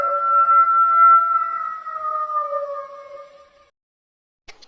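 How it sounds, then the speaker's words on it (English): A single long wolf howl holds a steady, tonal pitch for several seconds, fading gradually toward the end, then a brief faint click follows. "Wolf. This is wolf."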